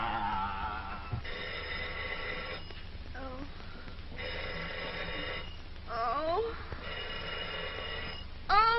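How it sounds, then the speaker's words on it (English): A telephone ringing in repeated long trilling bursts separated by pauses, heard in an old film soundtrack with a narrow, slightly hissy tone, while a voice cries out between and over the rings. "make them stop ringing. That phone will break my head open"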